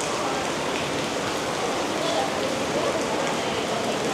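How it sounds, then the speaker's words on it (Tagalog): Steady rain falling on a Tokyo street, a continuous dense hiss of drops on pavement at moderate level with no break for the whole few seconds. "hindi talaga tumitila yung ulan"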